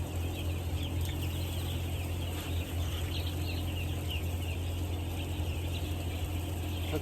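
Young chickens of one flock cluck and chatter steadily in a poultry house, a dense continuous murmur of many birds close by over a low constant hum, with no speech.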